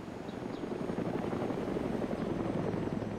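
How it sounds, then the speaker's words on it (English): Steady rotor drone of a helicopter passing overhead outdoors, a constant low thrumming roar that holds at moderate loudness throughout, with nothing else heard. "The helicopter's heading south."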